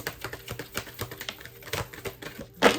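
Rapid, dense clicking and flapping of tarot cards being shuffled, a steady riffle of light taps ending in a louder burst.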